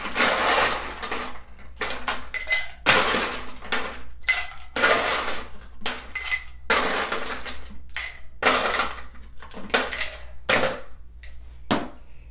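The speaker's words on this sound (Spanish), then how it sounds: "En un high glass añadimos el hielo." Ice cubes dropped and clinking into a highball glass while a Pineapple Fizz cocktail is made, a run of sharp, bright clinks and clatters in irregular bursts, close and loud, with no talking.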